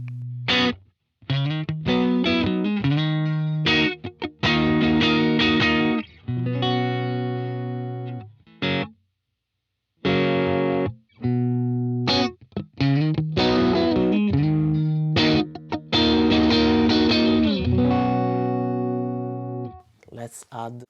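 An electric guitar plays through a UAFX Dream 65 amp pedal in a mode with added gain, giving gritty, slightly distorted chords and bluesy licks in bursts separated by short silences.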